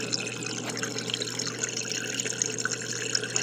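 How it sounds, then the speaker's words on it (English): Water overflows from a DIY aquaponics grow bed with an iron filter, pouring through a plain drain back into the sump tank as a steady, close trickling splash with no voices. "it pours, overflows back into the standpipe with no actual standpipe"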